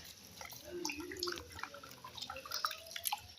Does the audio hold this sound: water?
yes